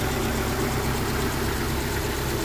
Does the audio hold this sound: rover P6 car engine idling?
yes